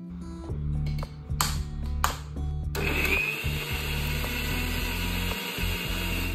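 A kitchen blender purees ripe mangoes for a mango halwa, its motor whirring steadily and loudly throughout, with a few knocking bursts early on before the pitch settles into a constant high whine.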